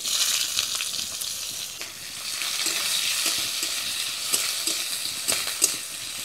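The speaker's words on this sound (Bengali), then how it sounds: "এবারে দিয়ে দিব পেঁয়াজ কুচি।" Chopped onion frying in mustard oil with dry red chilli, bay leaves and cumin gives a continuous close sizzle, with frequent sharp scrapes and clicks of stirring.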